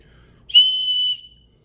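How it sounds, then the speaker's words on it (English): A small survival kit whistle gives one loud, shrill, sustained blast of about half a second, close and alone, then cuts off. "let's check out this whistle"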